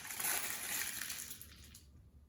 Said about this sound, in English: Should I try and crinkle it up and see if the water squeezes out?